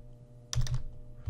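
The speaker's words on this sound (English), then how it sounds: "I can click on this one, press tab, get rid of the 2" A few quick, soft clicks as keys on a computer keyboard are pressed, close and quiet over a low electrical hum.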